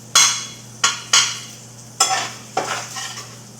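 Ground beef is browned in a pan for a cheesy noodle casserole: five distinct scraping stirs of a utensil through the sizzling meat, each a crisp swish that fades, over a faint steady hum, with no talking.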